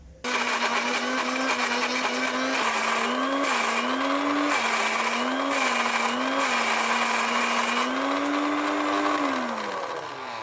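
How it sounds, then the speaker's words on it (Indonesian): An electric blender grinds spice paste with cooking oil for a sambal goreng dish, a loud steady high whine with its motor pitch wavering up and down for about ten seconds before starting to wind down. "Kali ini aku menghaluskan bumbunya dengan di blender."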